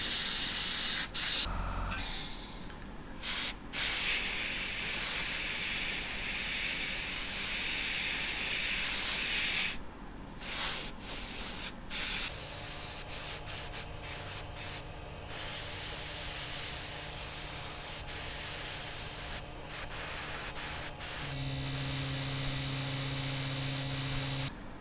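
An airbrush sprays thinned Tamiya matte black lacquer onto 1/32 scale Mosquito model parts, a steady loud hiss in long bursts, broken by short pauses and then settling into a quieter, sustained spray with a low compressor hum.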